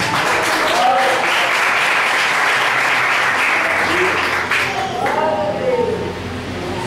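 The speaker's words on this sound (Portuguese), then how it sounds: "Salva de palmas do Senhor Jesus" Steady applause from a church congregation at an Assembleia de Deus service, dense and continuous for several seconds before thinning near the end, with a voice briefly heard over it.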